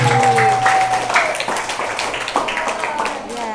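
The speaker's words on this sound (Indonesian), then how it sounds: "Tepuk tangan dong untuk pemateri." Students applaud a presenter at a girls' Qur'an presentation session during Ramadan, a busy clatter of clapping with voices talking over it.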